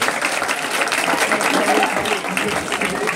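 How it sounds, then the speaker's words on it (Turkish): Wedding guests at a wedding hall in Kadirli clap continuously in a lively, dense burst of applause with voices mixed in the crowd. "Alkışlar daha canlı olsun bakalım."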